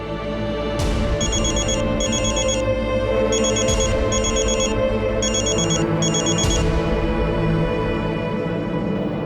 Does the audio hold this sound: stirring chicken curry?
no